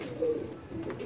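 Soft, low pigeon cooing, a couple of short murmuring calls close by over faint background noise.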